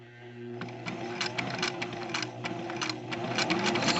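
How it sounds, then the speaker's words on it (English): A sewing machine, run by a floor pedal, stitches along a line in fabric, its motor humming steadily under bursts of rapid needle clatter that come and go in quick pulses, close and fairly loud. "I will get back to you when I finish sewing this."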